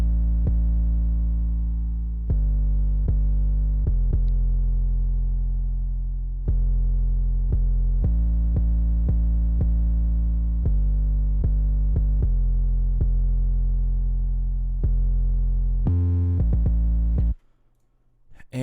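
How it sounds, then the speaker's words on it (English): A heavily distorted 808 bass drum pattern in a hip-hop beat booms loud and alone in sustained, gliding deep notes with clicky attacks, ending abruptly. "we have this pretty distorted 808 pattern."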